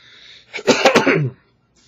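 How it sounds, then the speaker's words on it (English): A single sharp, close cough bursts out in a quick double push, followed by silence. "If you see I'm coughing."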